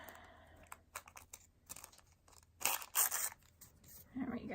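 A piece of paper is torn off by hand during a Mod Podge craft project, giving a few crinkly, ripping bursts in the middle among lighter handling and tapping noises.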